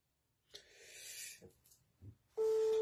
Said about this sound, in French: Roberto, il faut prendre le téléphone là. Je suis en train de t'appeler.